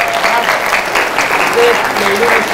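An audience at an evening religious lecture claps steadily for a short stretch. The dense, even applause is loud and close, with faint voices mixed in.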